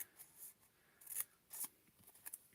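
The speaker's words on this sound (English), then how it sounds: "So I'm going to use my scissors" Scissors snipping through a paper card pull tab in a quiet craft setting, a few crisp close cuts in quick succession with no talk.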